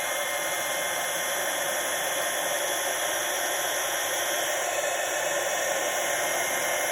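A heat tool melts embossing powder on a snowy card, blowing a steady, loud hiss like a hair dryer without a break.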